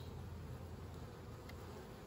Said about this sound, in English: there's still a lot of bees in there